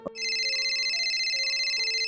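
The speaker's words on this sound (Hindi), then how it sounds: "फोन की घंटी बजी" A phone rings with a bright, sustained electronic tone that pulses rapidly, loud and close, sounding alone after a brief click.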